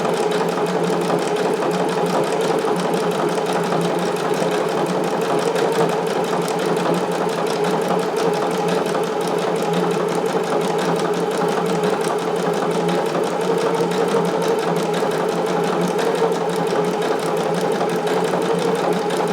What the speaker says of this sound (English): definitely serge the end of this